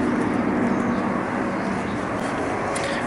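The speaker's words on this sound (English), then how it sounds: "That dove. Two doves." Soft cooing of a dove in a Missouri backyard on a windy morning, against a steady outdoor hiss, low and muffled, repeating gently throughout.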